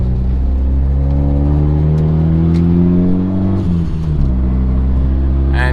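Turbocharged Honda Accord driving and accelerating, a loud steady engine drone from inside the car with rising harmonic tones as revs climb, briefly easing before pulling again.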